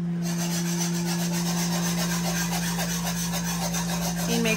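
A whisk stirring gravy in a pan, a steady close rhythmic scraping rasp that repeats quickly and evenly over a constant low hum.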